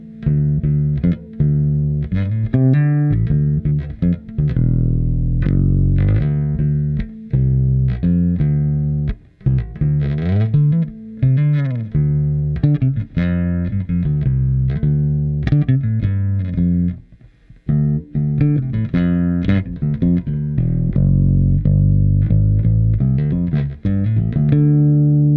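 Fender Custom Shop 1955 Precision Bass strung with flatwound strings and fitted with a slightly underpowered pickup, played continuously with deep, warm sustained notes and no talking.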